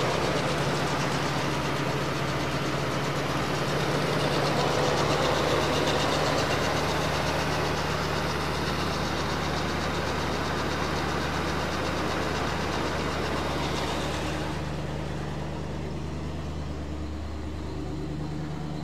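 A 1973 Mercury Marquis Brougham 460 V8 idles cold on fast idle, steady and fairly loud with a low rumble and faint ticking through its single factory exhaust, then drops slightly near the end.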